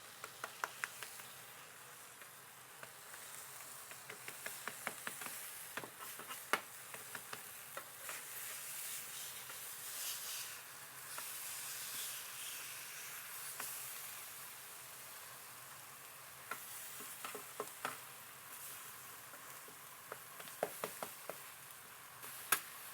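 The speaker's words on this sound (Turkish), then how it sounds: "Şöyle dışı güzelce çıtır çıtır olana kadar çevire çevire bunları pişireceğim" Chicken quesadilla filled with mozzarella and sauce sizzling in a pan, a steady soft hiss with faint crackles and occasional light taps, fairly quiet and without talk.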